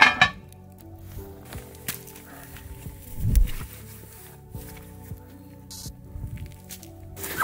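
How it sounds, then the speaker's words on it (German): A lid set onto a Dutch oven over a campfire, giving a couple of metallic clinks and clanks with a heavier thud partway through, amid low crackling and background noise. "Deckel kommt schon mal drauf."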